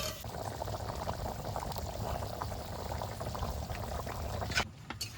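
A thin potato curry with pointed gourd for rui fish simmers steadily after water is added, a continuous bubbling hiss that holds level, with a brief drop near the end.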